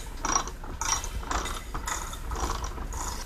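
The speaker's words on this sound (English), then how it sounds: "Next thing we want to do is change our spark plug. And that's a 13/16 spark plug socket." A ratchet fitted with a 13/16 spark plug socket clicks in about six short rhythmic bursts as it loosens the spark plug on a STIHL BG leaf blower, close and alone.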